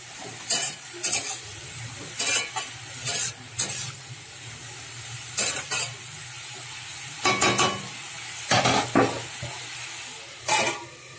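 Beetroot cooking with salt and turmeric in a covered pan over low gas, giving a soft steady sizzle with repeated bursts of stirring and scraping at a moderate distance, no voices.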